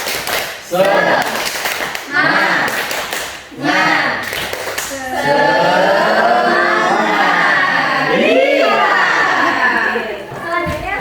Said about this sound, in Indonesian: Oke, tepuk semangat cowboy.